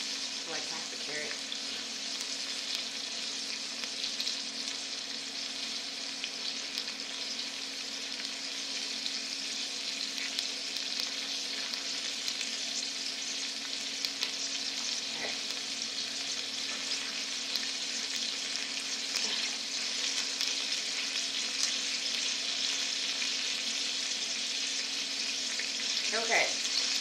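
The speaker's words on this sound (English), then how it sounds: "stir your onion. It's okay if it browns a little bit" Chopped onion fries and is stirred in a pan as the first step of a paella. A bright, steady hiss continues throughout, with faint scrapes and clicks of the spoon and a few soft voices in the background.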